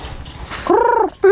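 Chickens on a backyard farm give two short, loud, tonal calls, the first drawn out and the second clipped, over a faint rustling background.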